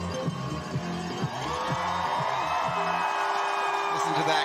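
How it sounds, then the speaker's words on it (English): Large crowd cheering and whooping at a Lake Placid women's 20km mass start cross-country ski race, a sustained roar with shouts rising above it, heard at a distance while a presenter speaks over the noise. "Listen to that crowd."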